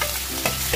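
Cumin, green chillies and potatoes frying in hot oil, a dense close sizzle with a stirring scrape in a brief burst.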